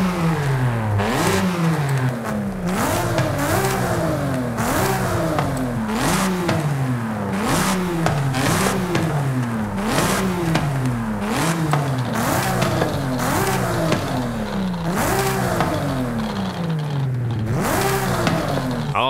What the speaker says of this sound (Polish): Posłuchajmy dźwięku wydechu.